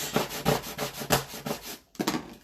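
Burnishing tool rubbed firmly over cut vinyl pieces laid onto transfer tape for a craft project, a close scraping rub repeated in short rhythmic strokes, about five passes with a brief pause before the last two, no talking.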